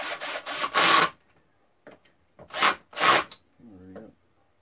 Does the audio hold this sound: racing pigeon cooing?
no